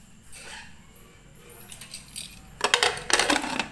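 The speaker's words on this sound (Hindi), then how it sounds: "अब हम इसमें लगा देंगे सीटी" A whistle weight is set onto a pressure cooker lid: soft fumbling first, then a burst of bright, close metallic clinks and rattles near the end, with no talking.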